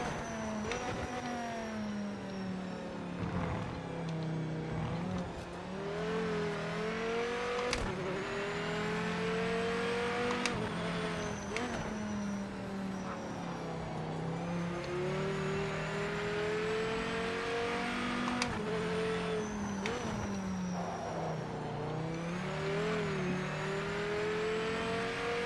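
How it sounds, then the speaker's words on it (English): A Viper race car engine in a racing video game roars and revs, pitch climbing and dropping through repeated gear changes, loud and close throughout with no talk. "this Viper already sounds and feels so much better than the actual GTE Viper"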